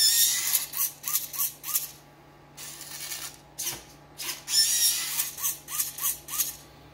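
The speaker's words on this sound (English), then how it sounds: "with this big servo, moves the arm up and down. And this little tiny hobby servo here pushes a piece of filament in and out" Small hobby servos whirring in short repeated bursts as they drive an R5-D4 droid's arm up and down and push a nylon filament in and out, with brief pauses between the mechanical runs and no talking.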